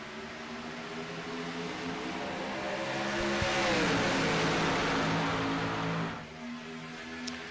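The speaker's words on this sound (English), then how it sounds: "Has all these engines ready to come to full song for 2 more laps here" A field of stock cars at Talladega in an Xfinity racing game revs up for a green-flag restart, engines swelling together into a loud sustained roar that peaks midway, then drops back as the pack settles.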